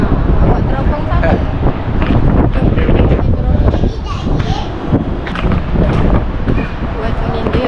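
Strong wind buffets the microphone outdoors in Alor Setar, a loud continuous rumble of gusts with faint voices mixed into the roar.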